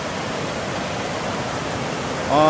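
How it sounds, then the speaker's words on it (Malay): A fast-flowing mountain river near Pos Lenjang, where locals bathe downstream, gives off a steady, dense rush of water from start to finish. A brief tonal sound rises over it at the very end. "Tapi air agak deras sikit lah kat sini."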